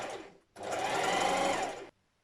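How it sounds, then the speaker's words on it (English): A sewing machine stitches along a seam allowance while sewing joggers: a short close burst of motor whir, then a brief pause and a longer steady run that stops abruptly. "we're going to just machine stitch along this seam allowance, either on our sewing machine or on the overlocker"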